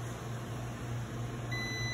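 A steady electronic beep tone from a multimeter on continuity mode, testing an alternator rotor, holds over a low mains-like hum, with a second higher tone joining near the end; no voices.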